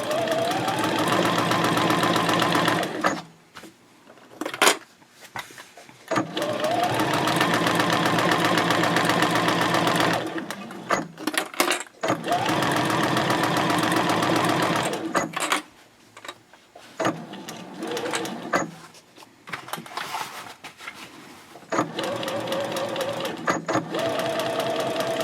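A sewing machine back stitching while a fold flat project bag is assembled, running in several loud sustained bursts with short quiet gaps between them.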